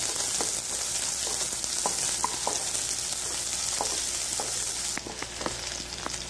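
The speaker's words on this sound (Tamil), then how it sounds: "உளுந்து செவந்ததும் வெங்காயம், பச்சை மிளகாய் போட்டு நன்றாக வதக்கி கொள்ள வேண்டும்." Onions and green chillies fry with urad dal in a pan for a Tamil banana-stem poriyal: a close, steady sizzle with occasional sharp pops and stirring clicks.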